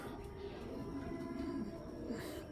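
Large, powerful racing pigeons of Belgian, Dutch and German club stock coo nearby in a low, continuous murmur, close to the mic with faint background noise.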